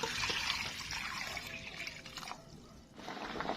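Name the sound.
pouring water for boiling hala fruit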